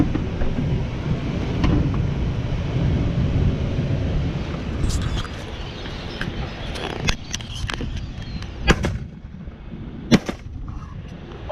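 Shotgun blasts ring out while hunting red-winged blackbirds outdoors, several sharp reports in the second half over steady wind noise on the microphone.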